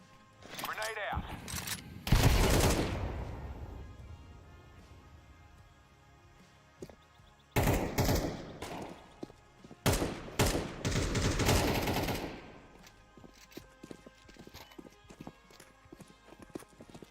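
Gunfire in a tactical shooter video game comes in several loud bursts of rapid shots separated by quieter stretches.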